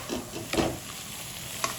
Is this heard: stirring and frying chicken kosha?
yes